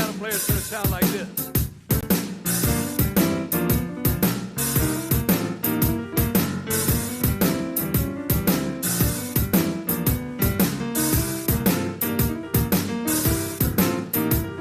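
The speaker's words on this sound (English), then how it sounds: "Memphis piano player is going to sound like this." Memphis-style blues piano rolls through We Three Kings with a driving, bouncy rhythm of repeated struck chords, loud and close, played alone without any voices.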